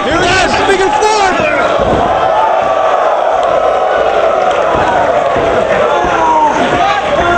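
A pro wrestling arena crowd roars and chants in support as a figure four leglock is applied at ROH Final Battle, a loud sustained swell of many voices with rising yells, under an excited commentator's voice.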